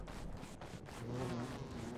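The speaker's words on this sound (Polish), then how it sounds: "Pszczoła wyleciała?" A bee in the video game Don't Starve buzzes steadily and close for about two seconds, a continuous insect drone with no speech over it.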